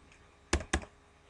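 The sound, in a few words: typing an XPath query on a computer keyboard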